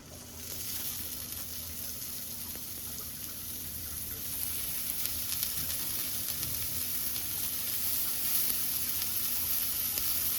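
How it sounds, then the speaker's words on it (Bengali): Adana kebabs frying in butter on a grill pan, a steady close sizzle that holds for the whole stretch and grows slightly louder partway through, with no talking. "দুই পিঠ লাল লাল করে ভেজে নিতে হবে মাঝখান দিয়েও আমরা একটু মাখন দিয়ে নিচ্ছি"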